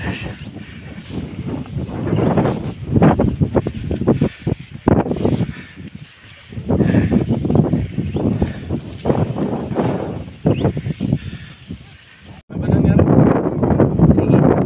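Strong wind buffets the microphone in loud gusts throughout at a summit in Samar, Philippines, with people talking intermittently underneath and a brief lull near the end.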